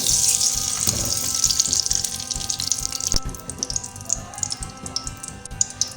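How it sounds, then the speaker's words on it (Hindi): Desi ghee is poured into a kadhai for nishaste halwa, giving a bright liquid splash and hiss that changes partway through into softer crackling and sizzle, close up and without speech. "इसके लिए मैंने एक कढ़ाई ली है, इसमें मैं ये देसी घी का 1 कप डालूंगी"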